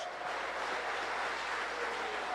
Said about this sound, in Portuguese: Dê um aplauso a Cristo.